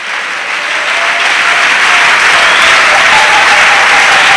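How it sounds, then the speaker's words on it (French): Congregation clapping together in a church service, a dense, steady wash of applause that swells slightly and holds loud throughout, with no voices standing out. "Yes, come while we clap."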